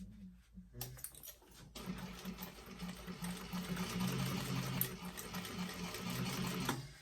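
A sewing machine runs a steady stitching burst along a tote bag seam at a quarter-inch allowance, close and continuous for most of the stretch after a few short taps and pauses at the start.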